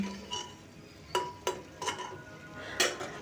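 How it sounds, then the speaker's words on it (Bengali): Spice paste being stirred and fried in a pan for a raw jackfruit curry, with a soft sizzle under sharp intermittent clinks and scrapes of a metal spoon against the pan, close and quiet, no talking. "আমি মশলাটাকে একটু ভালো করে কষি নেব যতক্ষণ না মশলা থেকে তেল ছাড়ছে"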